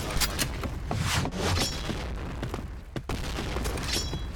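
Video-game gunfire crackles in rapid bursts and single shots, close and loud, layered over constant in-game background noise through a competitive multiplayer match.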